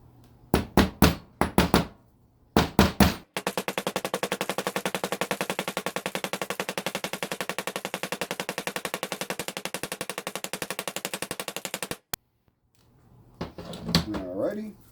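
Hammer tapping a front hub wheel bearing into place on a racing go kart: a few sharp separate knocks, then a long rapid steady run of fast metallic strikes that stops abruptly, followed by a voice speaking.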